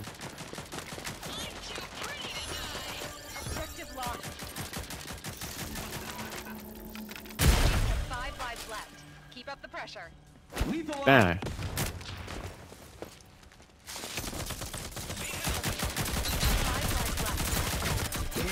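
Gunfire in the team shooter game Rogue Company, a dense run of rapid shots and bursts with a couple of louder booms midway, while a player talks over the action.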